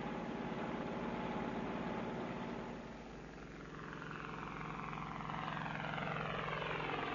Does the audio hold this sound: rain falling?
no